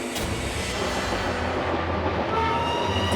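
A German steam-era locomotive train rolls by, a dense continuous rumble and roar with a faint whistle-like tone rising briefly near the end, no speech.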